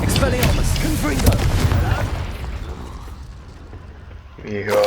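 A Confringo spell explosion in Hogwarts Legacy lands as a loud, booming burst followed by crackling debris that fades into a low rumble, with a player talking over the game sounds.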